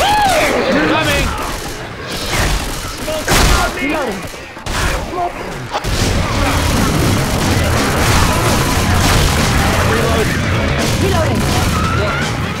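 Rapid bursts of gunfire in Left 4 Dead 2 on Xbox 360 rattle almost continuously, loud and dense, while players shout over the shooting.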